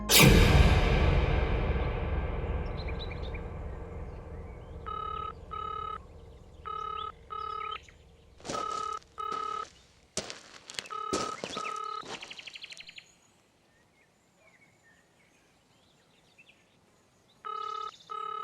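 A telephone rings unanswered in a Hindi film, repeated electronic ring bursts in regular pairs following a loud fading crash, then a pause before ringing resumes, clear and fairly close.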